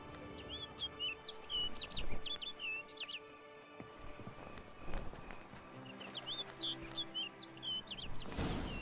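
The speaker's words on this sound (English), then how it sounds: "Looks like the bird's leading me somewhere." Bird song from a video game: short bursts of bright, high chirps, repeated in two clear flurries over quiet ambient background with soft footsteps.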